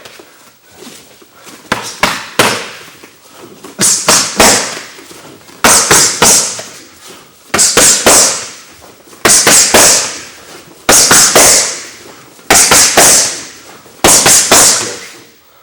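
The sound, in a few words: punches, hooks and straight rights, landing in MMA training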